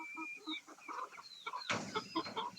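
Several chickens and a rooster cluck and squawk restlessly, eager to get outside, with repeated close calls throughout and a louder burst of agitated clucking midway.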